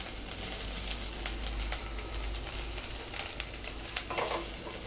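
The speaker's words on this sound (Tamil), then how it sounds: "நான் தேங்காயும் லைட்டாக வதக்கிக்கிறேன்" Grated coconut being lightly sautéed in a pan for a mushroom gravy, a faint, soft sizzle with quiet scraping stirs and an occasional small tap.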